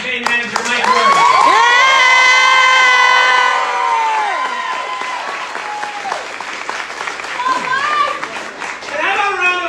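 An election-night crowd applauds and cheers for a campaign manager, loud clapping with shouts and whoops, children's voices and excited cries rising over it, fading then swelling again near the end.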